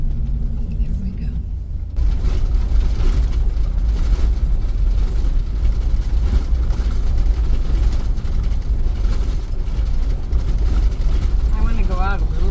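A vehicle jolts along a rough dirt road near Pahrump, Nevada, with a loud, constant low rumble and rattling from the cabin and suspension, and a voice briefly speaks near the end.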